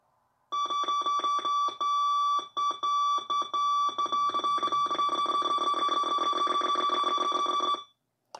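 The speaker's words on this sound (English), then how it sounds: "So this is your practice keyer." A Morse code practice keyer beeps out a rapid run of clipped, evenly pitched tones in quick on-off bursts, loud and close, for several seconds before stopping.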